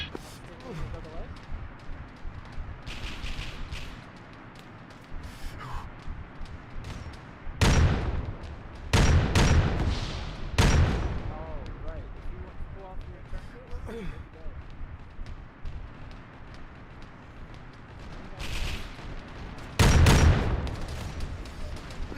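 Arma video game gunfire: several sharp, loud shots and short bursts crack out irregularly, with scattered quieter distant reports between them and voices talking throughout.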